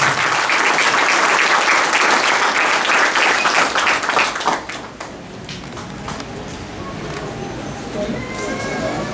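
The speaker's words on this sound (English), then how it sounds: "with a big round of applause" Loud audience applause fills a graduation ceremony at Corazon Technical High School, dense and steady for about four seconds before thinning into lighter scattered clapping that carries on to the end.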